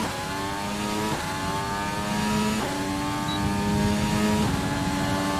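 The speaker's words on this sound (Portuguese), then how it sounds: "Acelerando tudo que dá aqui, usando a zebra até o limite." Formula 1 car in the F1 2020 video game, engine note climbing steadily through repeated upshifts at full throttle while running over kerbs, a continuous close, loud whine with no one talking.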